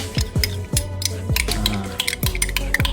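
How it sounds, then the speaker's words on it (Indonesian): A duck egg, honey and coffee mixture is whisked by hand in a bowl, with a fast regular beat of utensil strokes and clinks against the dish, close and fairly loud, with no speech. "Kita kocok seperti ini."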